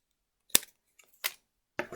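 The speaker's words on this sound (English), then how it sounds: "if you've got a pair of scissors, trim these off." Scissors trim excess paper from an origami lantern and star bowl, three short crisp snips spaced about half a second apart, close and clear against silence.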